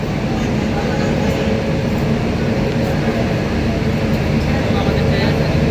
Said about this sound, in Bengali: শিয়ালদা নিউ দিল্লি রাজধানী এক্সপ্রেস ডিপার্চার নিচ্ছে শিয়ালদহ রেলওয়ে স্টেশনের 12